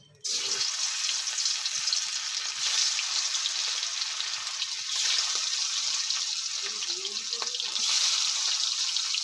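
Pomfret sizzles loudly in hot mustard oil, a steady bright crackling hiss that continues unbroken from start to finish.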